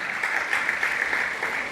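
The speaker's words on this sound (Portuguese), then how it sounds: "Aplauda o Senhor se você crê." A church congregation claps during a sermon, a short burst of steady, dense applause at moderate volume with no speech over it.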